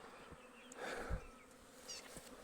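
Honey bees from a swarm buzzing nearby, faint overlapping whines rising and falling briefly in the open air.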